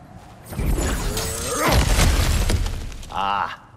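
Objects smashed apart in God of War Ragnarök, a loud crash with shattering debris and heavy thuds over a couple of seconds, then a short tonal effect, with a voice briefly heard.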